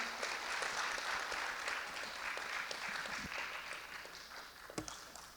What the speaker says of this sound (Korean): 여러분들 큰 박수로 환영해 주시기 바랍니다.